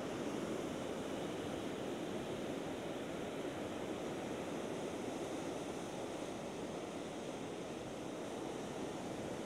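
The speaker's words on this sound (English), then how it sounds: "Check these waves out." Ocean waves in high wind produce a constant broad roar of surf and gusting air, loud and unbroken throughout with no voices.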